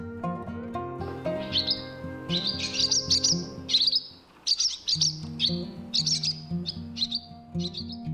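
Swallow chirping in bright, repeated twittering bursts layered over a steady, sustained tonal background, with a brief dip near the middle before the calls resume, clear and close.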